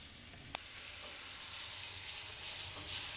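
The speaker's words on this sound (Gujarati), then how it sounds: "તો મરચાં આપણે કડાઈમાં ઉમેરી દઈશું" Red chillies go into masala frying in a kadai for an instant red chilli pickle, giving a soft, steady sizzle with a single brief click early on.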